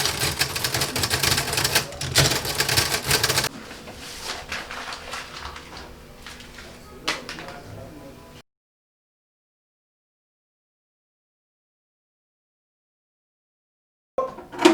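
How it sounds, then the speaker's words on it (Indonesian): Rapid clacking keystrokes on a typewriter as a proclamation text is typed in a 1945 Indonesian setting, loud and close, in bursts and then a steadier patter, stopping into silence before a brief clatter at the end. "Saya akan segera mengetiknya."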